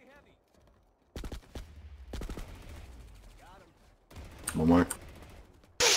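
Sharp bursts of gunfire from the Planetside 2 shooter game crack out in clusters during a competitive team match, loud and close, with players talking over the shots.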